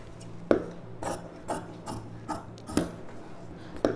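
Scissors cutting silk cotton blouse fabric, giving a string of sharp snipping and crunching strokes about every half second, close and clear, with a low steady hum underneath and no talking.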